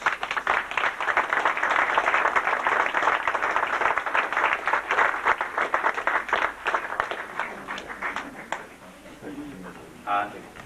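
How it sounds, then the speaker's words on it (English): A crowd at a Bakery Cup 50th anniversary celebration gives a sustained round of applause, loud and dense at first, then thinning into scattered claps as a voice starts speaking near the end. "it behoves us to finish with a round of applause for Jim Kane"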